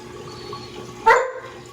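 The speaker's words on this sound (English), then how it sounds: "it's going to be sucked up by the siphon" A quiet watery hum breaks into one short, sharp slurping gurgle as saltwater aquarium water is sucked through a siphon tube, then fades back.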